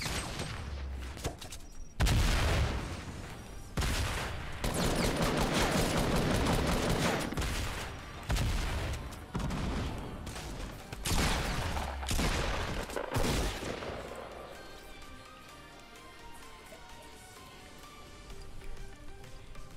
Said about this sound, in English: Oh, got people firing at me here